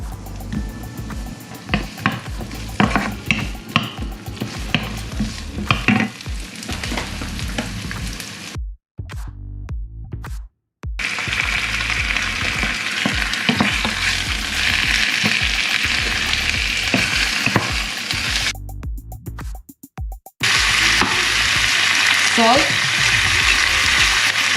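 Garlic and onion hiss and sizzle loudly in hot cooking oil, a steady crackling frying sound with stirring scrapes, cut by brief silences before the sizzle resumes.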